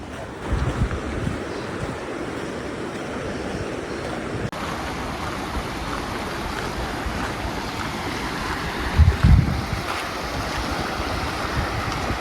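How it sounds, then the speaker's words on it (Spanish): A continuous broad roar of rushing water from the Arado waterfall cascading in stepped drops over granite rocks in Peneda-Gerês, Portugal, fills the whole recording, steady and loud, with some gusty rumble mixed in. "El río Arado desciende de varias caídas de agua escalonadas entre rocas de granito"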